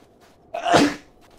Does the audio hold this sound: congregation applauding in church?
no